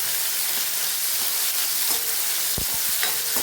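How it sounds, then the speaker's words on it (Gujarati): Chopped tomato is stirred into hot oil in a frying pan for a Kathiyawadi sev tameta curry, giving a steady close sizzle with a few scraping stirs of the spoon near the end. "એક ટમેટું મોટું કાપી લીધું હતું, એ એડ કરી દઈશું અંદર। મિક્સ કરી લઈએ આપણે।"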